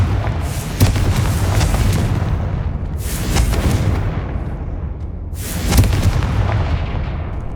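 Spell blasts from the Confringo fire spell in Hogwarts Legacy boom repeatedly, loud and close, with three big bursts standing out over a steady rumbling din.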